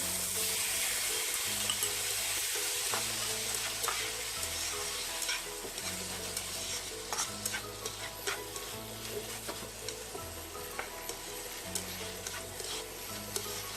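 Pork liver fries in a pan with bitter melon (ampalaya) for a dish with oyster sauce, giving a steady close sizzle with small ticks and clinks of stirring throughout.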